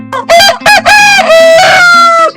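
Egg-laying hens on a poultry farm cluck loudly and close up in several bursts, with a crowing rooster drawn out over the calls and no talk.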